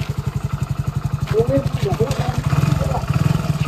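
A motorcycle engine idles with a steady, rapid low thumping throughout, close by, while people talk over it.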